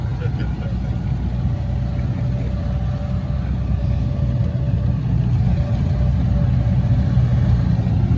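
A vintage snowmobile engine drones steadily at a constant mid pitch while being driven, loud and close with a rumbling low end.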